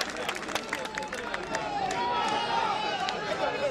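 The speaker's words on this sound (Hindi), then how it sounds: "एक बार जोरदार तालियां बजा के सबका अभिवादन करें" A crowd at a BJP party event claps loudly to welcome new members, the applause mixed with crowd chatter and a voice speaking over it.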